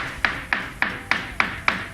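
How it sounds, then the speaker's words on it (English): A hammer taps the bottom of a boat hull during a pre-sale survey in Hong Kong, striking six sharp, evenly spaced blows roughly every quarter second, each with a short ringing decay, with no talk. "basically checking the hull bottom with a hammer for any abnormal sounds"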